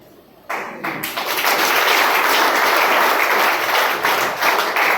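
After a brief quiet moment, an audience at a business talk breaks into loud, dense clapping that swells quickly and carries on steadily through the rest.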